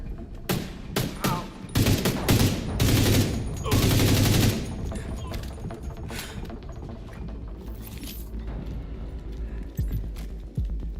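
Rapid gunfire bursts crackle loudly through the opening seconds, several dense volleys close together, then taper into scattered lighter shots and rattling noise toward the end.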